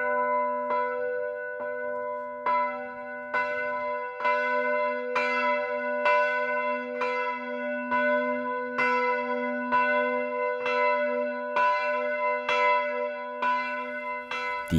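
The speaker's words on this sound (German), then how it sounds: "Die erste der neuen Glocken wird zum Klingen gebracht." Newly installed bell of St. Daniel parish church ringing, about a dozen clear resonant strikes at an even slow pace, each leaving a long humming tone that overlaps the next, heard alone.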